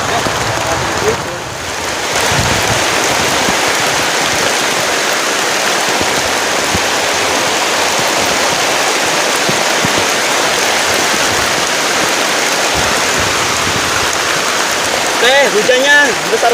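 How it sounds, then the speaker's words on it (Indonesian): Heavy rain pours down steadily on a camping shelter during a storm, a dense, loud wash of water drumming throughout, with a voice speaking briefly near the end. "hujannya besar banget"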